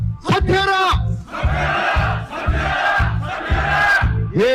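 Protest crowd at a press conference condemning the Gyeongsan city council chants slogans in unison, a loud rhythmic series of shouted phrases with a leading voice cueing each line, repeated roughly every half second to second.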